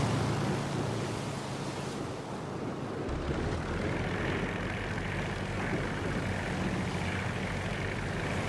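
Propeller airplane engine in the Crimson Skies: High Road to Revenge video game, a steady loud droning roar with rushing wind that shifts slightly as the plane maneuvers.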